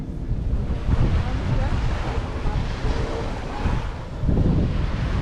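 Ocean waves wash onto the beach at Gold Coast in a steady rushing roar with wind buffeting the microphone, surges swelling around a second and near the end, with people talking.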